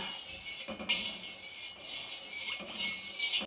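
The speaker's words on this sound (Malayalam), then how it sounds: "ഒരു ലിറ്റർ പാൽ ഒഴിച്ചു കൊടുത്തു നമുക്കിങ്ങനെ ഇളക്കി കൊടുക്കണം കേട്ടോ" Milk, a litre poured into a pot for makhana lotus-seed payasam, stirred with a utensil, giving soft repeated metal scrapes and light clinks close by, continuous and fairly quiet, no voices.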